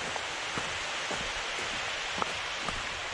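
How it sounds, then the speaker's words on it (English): Steady rain falls outdoors at Fernworthy Reservoir on Dartmoor, a continuous soft hiss with occasional louder drops pattering nearby. "It's raining again."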